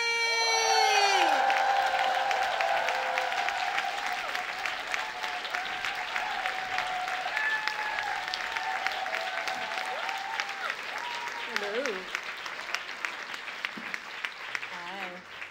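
Audience applause and cheering for performers at a live show, a loud sustained clapping crowd with whoops and shouts that gradually thins out, while a voice and sung tones ride over it.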